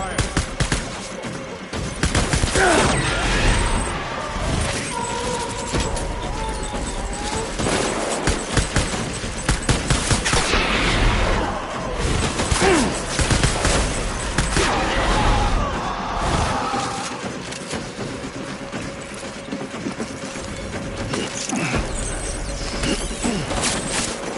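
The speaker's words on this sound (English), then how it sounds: "Taking fire. Open fire." Sustained gunfire from a Death Stranding combat sequence, with dense bursts and volleys of shots that ring out continuously over clattering impacts and scattered background voices.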